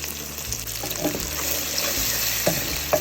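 Onions with salt sizzle in a frying pan while being stirred, a continuous hiss broken by scraping and clattering of the spoon against the pan.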